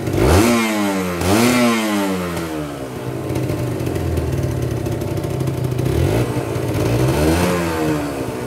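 A car engine with a compression leak into the radiator coolant is revved repeatedly, rising and falling in loud, close pitch sweeps over a steady idle with a rough clatter underneath, and no speech.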